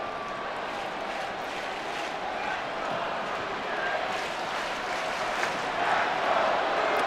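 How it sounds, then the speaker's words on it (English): A Toronto baseball stadium crowd keeps up a steady, distant murmur and roar that grows a little livelier toward the end, with a few scattered claps and shouts. "Crowd getting a little livelier."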